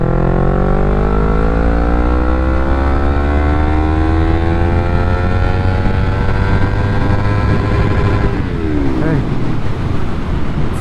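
A Yamaha MT-03 motorcycle accelerates hard at full throttle in third gear, its engine note sweeping steadily upward in a loud, continuous rising whine before easing off near the end.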